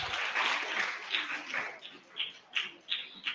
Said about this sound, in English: Please encourage the participants by clapping.